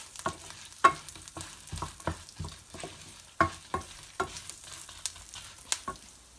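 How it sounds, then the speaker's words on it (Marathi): Garlic and ginger fry lightly in a pan for fish curry. A quiet, low sizzle runs beneath sharp, irregular scrapes and taps from stirring, with no voices. "आपल्याला हे जास्त फ्राय करायचं नाही आहे, वरचेवर फ्राय करायचं"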